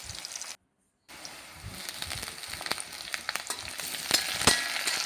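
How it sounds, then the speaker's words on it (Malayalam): Ground spice paste with dried chili and onion sautéing in hot oil for a Kerala-style fish curry, a close crackling sizzle that cuts out briefly, then returns, rising with sharper pops as it fries, with no voices. "ഉണക്കുളകവും സവോളയും കൂടെ ഇട്ട് അതൊന്ന് മൂത്ത് വരുമ്പോൾ നമുക്ക് ഈ അരപ്പനകത്തോട്ടിട്ടൊന്ന് മൂപ്പിച്ചെടുക്കണം"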